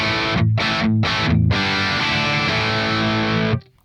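An electric guitar plays heavily distorted through a Soldano SLO amp capture on a Quad Cortex, with a few choppy muted chords and then one loud sustained chord that cuts off abruptly.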